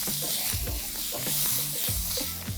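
Onion going into a very hot wok with meatballs in a stir-fry, a dense continuous sizzle with repeated scraping strokes of stirring, close and steady.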